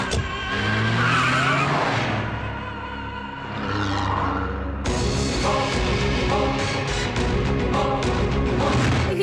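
A car pulls away on a village road with its tires skidding and squealing, loud and sustained throughout, with engine roar and a sharp change in the sound midway.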